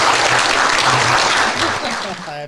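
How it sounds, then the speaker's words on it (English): Dense, loud applause fills the air right after a speech, a steady wash of many hands that fades slightly at the end. "I have to clap on that"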